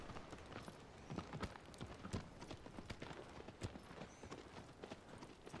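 A horse gallops in Shadow of the Colossus, its hooves pounding in a quick, irregular run that stays close and continuous, with no speech over the top.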